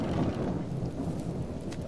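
Steady rain in the survival video game Subsistence, a continuous dense rushing wash with low rumbling, heard alone at a constant moderate level.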